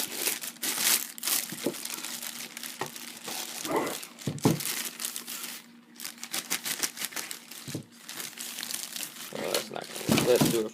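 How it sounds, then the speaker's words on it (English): Alpine MRP-500 mono amplifier being pulled from crinkly plastic packaging, with dense bursts of close crumpling and rustling that come in uneven waves, and someone talks intermittently over the noise. "So let's get this out of the packaging here."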